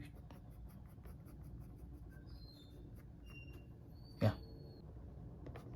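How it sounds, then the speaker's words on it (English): Pencil drawing an ear on paper, with soft, close scratching strokes that continue steadily, then a single brief bump; quiet and alone, with no talking. "Now I'm drawing the ear, and later I'm just gonna shade it"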